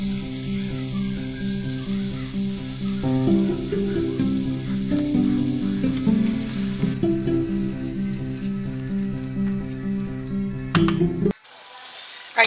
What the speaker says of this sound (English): we're going to add in some onion and garlic, and we're going to cook that down till it gets really aromatic and translucent